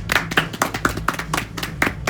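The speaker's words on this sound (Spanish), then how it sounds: "Nunca le había aplaudido una tortilla" People clap for an omelette in a room, a few sparse, uneven claps over a busy, murmuring background.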